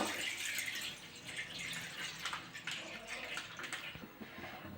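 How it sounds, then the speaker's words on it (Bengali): Water runs and splashes into a wok on a kitchen stove while a rice-flour dudh puli pitha dessert with milk is being made, a continuous fairly faint pouring sound alone. "কড়াতে একটু জল দিয়ে দেবো"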